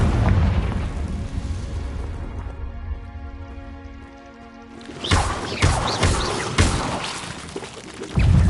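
A Confringo explosive spell blast in Hogwarts Legacy, heard as a loud booming explosion with crackling debris, followed by a quieter tonal stretch and then another burst of sharp blasts, close and forceful.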